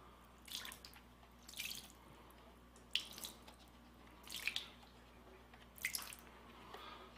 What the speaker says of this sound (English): water just running off the shoe like crazy